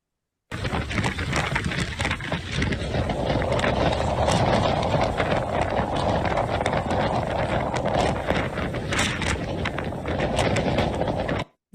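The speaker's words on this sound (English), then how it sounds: "that's the wind gusts in that area from 5 days ago" Strong gusting wind buffets the microphone in western Nebraska amid wildfire conditions, a loud continuous roar with rising and falling surges and crackling bursts throughout.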